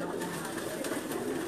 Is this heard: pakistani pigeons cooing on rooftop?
yes